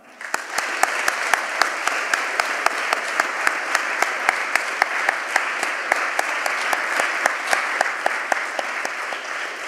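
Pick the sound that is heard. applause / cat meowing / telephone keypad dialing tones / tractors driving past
applause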